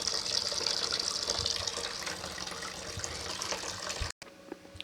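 Liquid poured into a fermenter, a steady rushing, splashing stream that runs loudly for about four seconds, then stops abruptly, leaving faint drips and handling noise.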